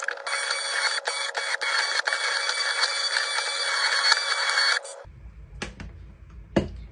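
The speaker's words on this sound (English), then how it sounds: "Then we're going to immersion blend our soup." An immersion blender purées homemade tomato soup with a loud, steady motor whir for about five seconds, then cuts off, leaving a few faint clicks and knocks.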